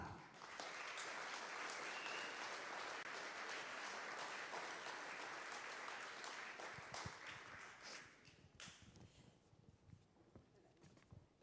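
Big audience applause for international candidates at Austria's best sommelier competition, dense steady clapping for about seven seconds before thinning into scattered claps and murmuring voices.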